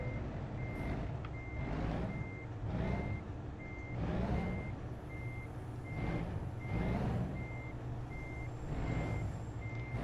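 A truck in American Truck Simulator backs a trailer, its reversing alarm beeping in a steady, evenly spaced rhythm over the low rumble of the idling engine, with no talk.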